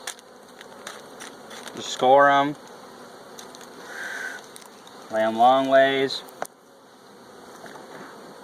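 Honey bees buzz steadily around an open hive during pollen patty feeding, a close continuous drone with someone talking over it in two bursts.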